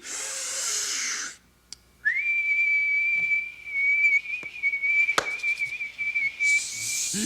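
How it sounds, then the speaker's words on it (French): A person whistles one long, steady, clear note that holds for about five seconds, with a short louder burst before it and more loud sound after it. "on peut siffler nous aussi."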